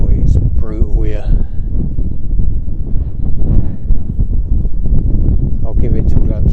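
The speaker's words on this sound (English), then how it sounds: "I don't know how long I'm going to put up with this wind for. It's brutal here." Strong, buffeting wind roars against the microphone beside a fenland drain during a pike fishing session on the Middle Level, a constant low rumble with gusts, and someone talks over it.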